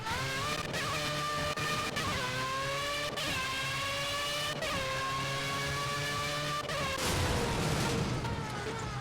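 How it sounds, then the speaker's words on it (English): A loud, high-revving LMP1 prototype race car engine in the Project CARS racing game, its harmonics sweeping up and down through rapid gear changes over several seconds, steady and close throughout. "this is what proper Formula 1 cars used to sound like"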